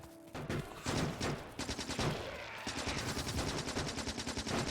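Rapid bursts of gunfire from sniper turrets in the video game Factorio, a dense, continuous rattle of shots with brief pauses, loud and close throughout.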